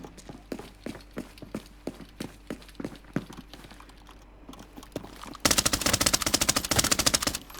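In the online shooter Arena Breakout: Infinite, steady rhythmic footsteps give way to a long, loud, rapid burst of MP5 submachine gun fire that continues to the end.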